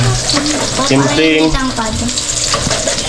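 Food sautéing in a pan, giving a loud continuous sizzle and hiss with bits of stirring, while a person talks over it.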